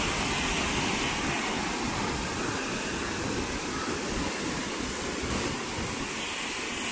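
A broad, continuous roar of rushing water fills the air from Sawdav waterfall in Kankavli, Sindhudurg, swollen and muddy after heavy monsoon rain, loud and close with no voices.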